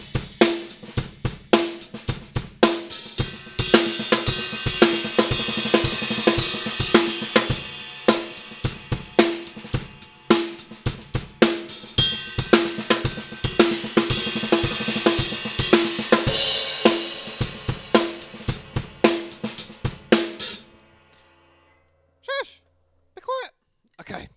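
A drum kit plays a fill built from inverted paradiddles and six stroke rolls, with dense, rapid hits and sharp accents repeating in a steady pattern, then a brief near-silence with a few isolated strokes at the end.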